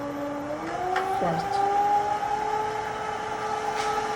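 An 8-inch lapidary trim saw whirs at high speed with steady whining tones that shift pitch once as it spins up, moderately loud and continuous.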